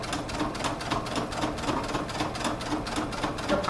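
A sewing machine stitches around the pocket of a large tote bag. The motor whirs steadily and close by, with a fast rhythmic chatter of needle strokes throughout.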